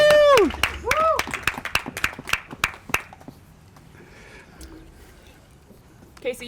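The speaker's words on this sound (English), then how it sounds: "Give her a round of applause." Audience at a live podcast show cheers with whoops and claps for about three seconds, a loud burst that quickly thins out and fades to quiet room noise.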